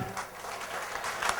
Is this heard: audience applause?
yes